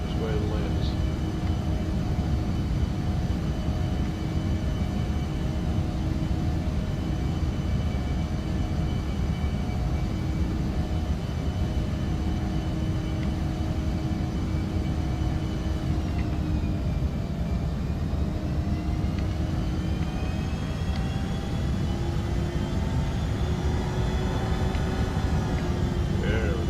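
Embraer E145 XR jet on landing approach in the X-Plane 11 flight simulator, a continuous engine whine and rumble with a pitch shift partway through, while someone talks over it throughout.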